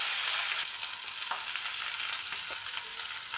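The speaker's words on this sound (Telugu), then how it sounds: "కొంచెం ఆనియన్ ఉంటుంది, టమాటాలు వేపుతాను" Chopped onion and tomatoes frying in a little oil for a baby potato masala curry, giving a steady, close, bright sizzle with faint crackles and no voices.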